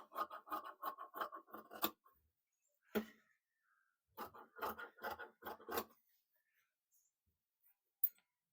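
Scissors snip through blouse fabric along a boat-neck line in quick rhythmic clusters of crisp cuts, close and clear, separated by short silent pauses, with one last isolated snip.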